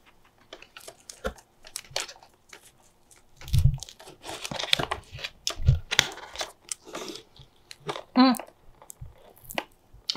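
Fluffy winter-coated guinea pigs chew and bite close up, giving a steady run of small crunchy, crinkly bites with louder bursts, while a person talks over them.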